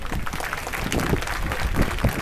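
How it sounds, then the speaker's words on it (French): Audience applause and clapping at the outdoor inauguration of a Louis-Joseph Papineau statue, a dense steady burst from a gathered crowd with no talk. "Nous, on a fait une volée de claques et d'applaudissements."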